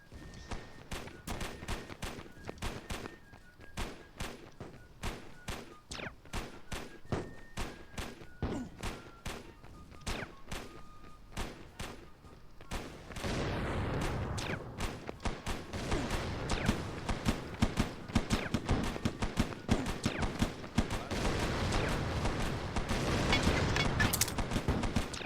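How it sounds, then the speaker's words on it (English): Toy rifle gunfire in Attack on Toys, a rapid string of sharp cracking shots at first, then denser volleys with heavier thumps over a loud battle background. "Now we need to go in with our rifle."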